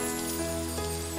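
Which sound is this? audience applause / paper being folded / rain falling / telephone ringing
rain falling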